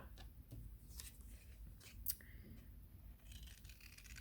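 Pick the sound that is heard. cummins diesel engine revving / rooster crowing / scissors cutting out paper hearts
scissors cutting out paper hearts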